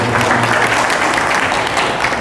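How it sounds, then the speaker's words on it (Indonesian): Dense, loud audience applause at a mosque committee inauguration, continuous crowded clapping for a couple of seconds with faint voices underneath. "Tepuk tangan untuk beliaunya."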